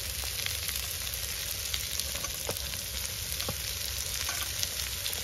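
Green peas sizzling as they fry in a pan, a steady close hiss with a few light clicks and stirring scrapes, no talk.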